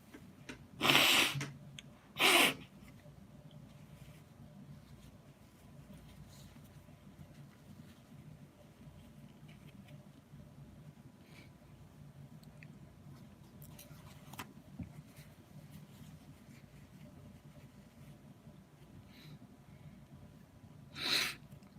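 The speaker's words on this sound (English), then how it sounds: "Had to get the morning sniffles out" Two sharp nasal sniffs close together near the start, then a quieter stretch with a third sniff near the end, heard up close against faint background hiss.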